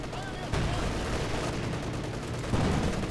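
Artillery and gunfire from a Company of Heroes 2 2v2 match: steady rumbling battle noise with two heavier blasts, one near the start and another toward the end, and faint voice commentary running underneath.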